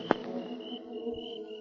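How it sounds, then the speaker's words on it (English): Crickets chirp in a steady, faint, continuous trill as a night-time sound effect in a radio drama, with no voices present. "Only the sound of crickets broke the silence."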